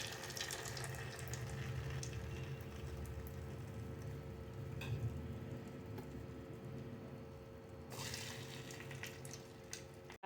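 Bonda batter frying in hot oil, a steady soft sizzle and bubbling hiss that runs throughout at low level, with a brief brighter crackle near the end.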